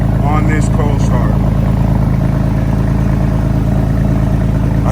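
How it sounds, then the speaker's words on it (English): A Porsche 911 on a cold start runs its very loud exhaust at a high idle, a dense, continuous rumbling drone close by, with a voice briefly heard over it at the start. "I told you this exhaust system was super loud."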